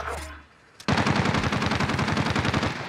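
Rapid automatic fire from a PPSh submachine gun in Call of Duty on Rebirth Island, a loud close burst of evenly spaced shots that starts abruptly after a brief lull and continues to the end.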